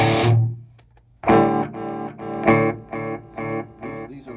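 An electric guitar through a multi-tier pedalboard into a Mesa Dual Rectifier with boost and reverb engaged: a ringing distorted chord, then a run of about six rhythmic, heavily driven chord stabs, loud and up close.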